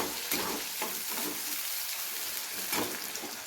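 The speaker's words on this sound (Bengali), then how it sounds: "এবারে পেঁয়াজটাকে খুব ভালোভাবে একটু ব্রাউন করে ভেজে নিতে হবে।" Chopped onions fry in a pan toward browning, giving a soft, even sizzle with a few gentle stirring strokes heard up close.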